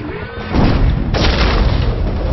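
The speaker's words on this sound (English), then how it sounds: "soldiers must enter the contamination facility and plant an HE high explosive charge on the device" An HE high explosive charge detonating on a device in Enemy Territory: Quake Wars, a loud deep boom that swells and rumbles on for a couple of seconds.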